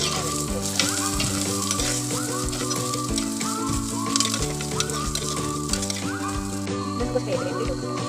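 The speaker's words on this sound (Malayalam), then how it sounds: "എന്നിട്ട് നമുക്ക് ഇഞ്ചിയും കൂടി ഇട്ട് കൊടുക്കാം. എന്നിട്ട് നമുക്ക് നല്ലോണം ഇളക്കി കൊടുക്കാം." Green chillies and ginger fry in oil in a pan with a steady, close sizzle, broken by repeated scraping strokes of a stirring spoon at an even rhythm.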